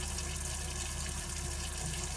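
Water runs from a tap fed by a Girard GSWH-2 RV water heater while its fan and burner operate, making a steady, unbroken rushing hiss that stays constant and moderately loud, with no speech.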